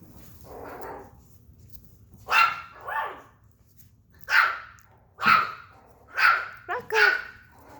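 Small Chihuahua puppies let out a string of high, sharp yips and barks, about six bursts at irregular intervals, close and fairly loud indoors, with softer whimpering between them.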